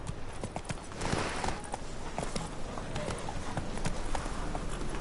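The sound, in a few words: horse Roach trotting in The Witcher 3 Wild Hunt video game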